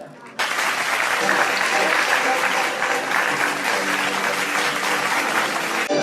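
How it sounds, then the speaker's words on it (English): A crowd at an alumni meet claps loudly and continuously after a brief quiet start, the applause sustained and dense for several seconds. "Congratulations all, the applause should not stop."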